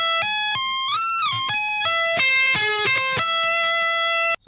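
A distorted electric guitar plays a slow riff with whole-tone sweeps, a pick slide between a full sweep and a three-string sweep, and rising and falling sustained notes, loud and close and alone, ending with a sudden cutoff.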